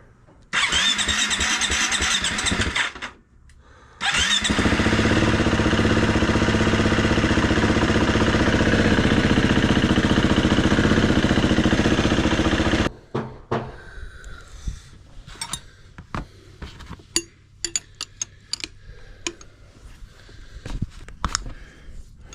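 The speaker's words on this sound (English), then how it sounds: "I'm going to run the engine for a minute or two and just warm it up." A 2019 Husqvarna FE350 dirt bike engine starts and runs loud and steady to warm up, a short first burst then a long sustained idle roar, followed by clicks and handling noises after it shuts off.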